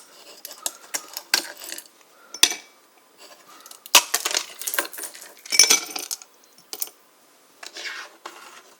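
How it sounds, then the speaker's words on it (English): Ice cubes clink and rattle into a glass in a run of sharp, hard knocks, some single and some in quick clusters, close up and bright with quiet gaps between them. "First thing you gotta do is you put the ice cubes into"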